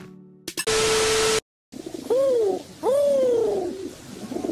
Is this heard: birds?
yes